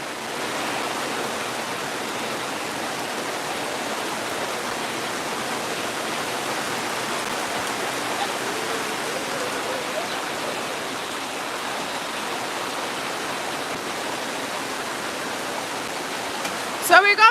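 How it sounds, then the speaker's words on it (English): Steady rain falling outdoors, a dense even hiss that holds without change from start to end, close and moderately loud, with a brief knock near the end. "So we got beaten by the rain."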